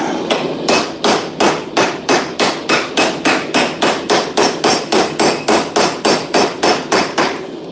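A hammer upsets the face of a blacksmith's ball punch held in a vise, striking about twenty loud, sharp metallic blows in a steady, even rhythm, close and alone.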